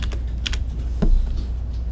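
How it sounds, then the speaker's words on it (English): A short burst of typing on a computer keyboard, a few close key clicks over a low steady hum. "I'm going to type 25."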